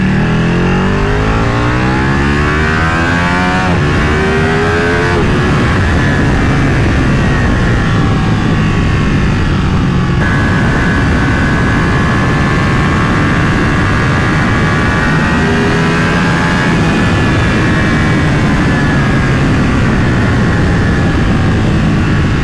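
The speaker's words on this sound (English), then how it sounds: "I want to wait until the engine warms up a little bit" A Ducati Panigale motorcycle engine runs continuously while riding, its pitch rising and falling through gear shifts, loud and close with steady wind noise.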